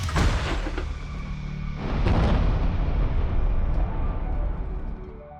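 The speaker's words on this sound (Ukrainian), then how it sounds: "Постріл! Постріл!" Two heavy booms of a border guard artillery gun firing, the first sharp and the second a deep rolling blast that echoes and slowly dies away outdoors.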